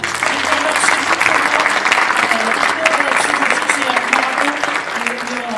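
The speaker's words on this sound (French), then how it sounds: "Ce que je vous propose, c'est vraiment de les applaudir." Audience at a French innovation event clapping, a dense, loud, steady round of applause that holds evenly from start to finish.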